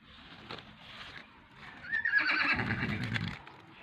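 A horse gives a clear, fairly close whinny, rising and shaking over about a second, with soft hoof and rustling sounds around it and no talk.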